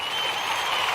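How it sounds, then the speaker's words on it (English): An audience breaks into a steady wash of applause, dense and sustained across the whole moment, with no clear voices rising above it. "Let's give them a round of applause."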